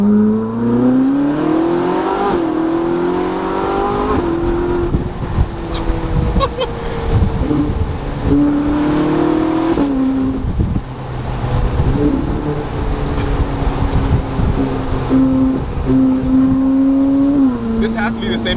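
A Ferrari 458 Spider accelerates hard from inside the cabin, engine pitch climbing repeatedly through gear changes, loud and close, with people talking over it.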